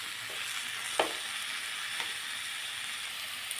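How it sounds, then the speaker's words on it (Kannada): Capsicum fries with spice powders in a pan, giving a steady close sizzle with occasional soft scraping knocks from stirring. "ಕ್ಯಾಪ್ಸಿಕಮ್ಮು ಹಾಕ್ಕೊಳ್ತಾ ಇದ್ದೀನಿ. ಇದು ಪೌಡ್ರುಗಳ ಜೊತೆನೇ ಫ್ರೈ ಆಗುತ್ತೆ."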